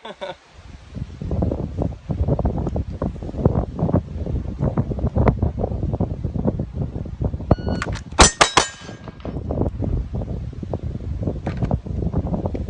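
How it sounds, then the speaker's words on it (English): A pistol fires in a rapid string at a steel target, and a tight cluster of sharp metallic rings stands out near the end over steady outdoor wind and handling noise. "let's do 3 rounds in under a second"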